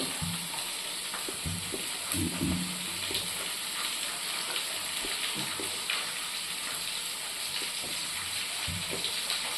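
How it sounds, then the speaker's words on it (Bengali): Potatoes frying in a pan produce a steady, fairly soft hissing sizzle throughout, with a few low knocks of stirring early on and no talk. "এদিকে আলু ভাজাটা হচ্ছে এবার দেখে নাও"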